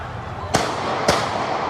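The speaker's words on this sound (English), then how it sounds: "that was two gunshots in the crowd back toward where people were running from" Two sharp, loud bangs about half a second apart ring out in an outdoor crowd at a street protest in Charlotte, North Carolina, over steady background crowd noise.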